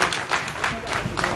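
Farmers gathered outdoors at a rally in Malbouzon applaud in a short, steady patter of many hands, fairly close and continuous throughout.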